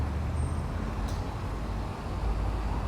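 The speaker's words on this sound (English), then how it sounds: "So there's some trucks passing, sometimes some noisy cars." Trucks and occasional noisy cars passing on a road at a port, a steady near rumble of traffic with one vehicle's hiss briefly rising, continuous throughout.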